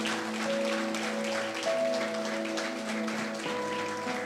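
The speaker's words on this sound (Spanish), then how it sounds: "Le damos un aplauso al Señor." A church congregation applauds a preacher's sermon with dense, sustained clapping that fills the room, while a soft organ chord holds underneath throughout.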